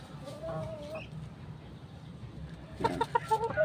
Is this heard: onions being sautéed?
no